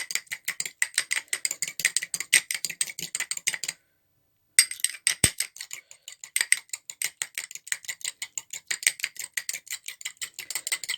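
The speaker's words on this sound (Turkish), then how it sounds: "Bunu iyice köpük kıvamına gelene kadar bu şekilde çırpacağız." A homemade face mask mixture being whisked until foamy, with a rapid, steady ticking beat of the whisk against the bowl that pauses briefly midway and then resumes.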